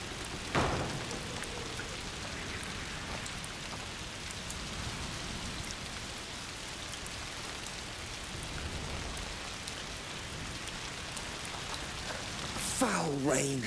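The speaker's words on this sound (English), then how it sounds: "Foul rain." Steady rain pours across a dark, grim setting in the video game A Plague Tale Requiem, a dense, continuous hiss that fills the whole scene, with a brief thump near the start and a rising tonal sound and voice breaking in at the end.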